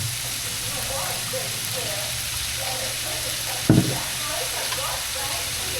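Food sautéing in a pan gives a steady, broad sizzle that runs throughout, close and moderately loud, with one brief clatter near the end and faint voices in the background.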